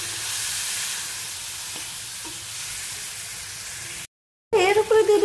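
Ground masala frying in a pan for bhindi curry, a steady close sizzle and hiss with occasional stirring, broken by a brief silence before louder sizzling resumes.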